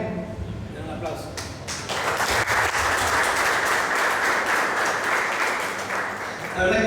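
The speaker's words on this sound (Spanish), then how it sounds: "Den un aplauso." Congregation clapping in a church, starting with a voice and scattered claps, then swelling into full, dense applause that holds steady for several seconds before a louder thump near the end.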